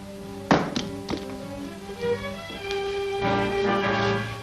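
A gun drops onto the floor in a 1943 adventure serial scene, a single dull close thunk followed by a couple of softer knocks over a steady background hum.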